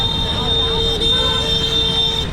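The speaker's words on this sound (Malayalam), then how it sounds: "ഫുള്ള് ഇങ്ങനെ ഹോൺ അടിച്ചിട്ടാണ് എല്ലാവരും." Vehicle horns blare in busy Kerala road traffic, with a sustained loud toot that holds nearly unbroken over engine noise and a voice talking.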